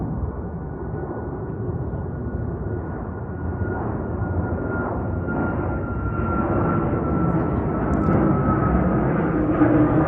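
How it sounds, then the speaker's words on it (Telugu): A fixed-wing aircraft takes off from a runway at Ladakh airport, its engine a steady broad roar with a faint rising whine, sustained and gradually louder across the whole stretch, heard at a distance with no talking. "ఎయిర్ క్రాఫ్ట్ టేక్ ఆఫ్ అవుతుంది, కనిపిస్తుందా?"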